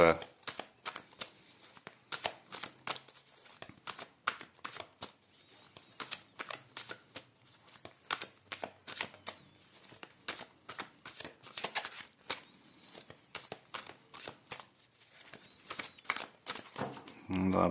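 Large tarot cards being shuffled over and over, a close rapid riffle of flicks and slaps in irregular bursts, with someone speaking quietly at times beneath.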